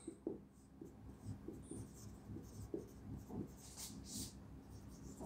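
Pen writing by hand on paper during a physics lesson, faint scratchy strokes coming in short bursts with small pauses between them.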